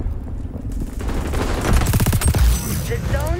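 Rapid automatic gunfire from the shooter video game XDefiant, an MP7 firing a fast burst of close, loud shots with booming impacts layered over game sounds.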